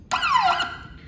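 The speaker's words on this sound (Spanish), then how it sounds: "para que suene la sirena cuando armamos y desarmamos" A Shocker 16,000 Pro electric fence energizer sounds its alarm siren on arming, giving a short, loud electronic chirp with a falling sweep and a brief second blip after it.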